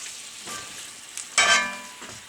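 Artichoke and shrimp sizzling in a frying pan as they are stirred, a hissing fry broken by a few scraping strokes and one louder clatter of the utensil midway.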